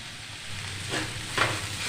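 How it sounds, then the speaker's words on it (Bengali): Vegetables with Maggi masala sizzle steadily in a pan as a couple of stirring strokes swell the frying noise, with a low hum underneath. "এবার একটু নাড়াচাড়া দিয়ে নামিয়ে দেব।"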